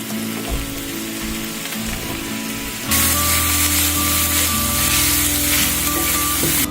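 Chopped eggplant, onion and sliced mushrooms drop into a hot pot with meat: a quieter kitchen hiss gives way midway to a loud, steady sizzle that carries on to the end.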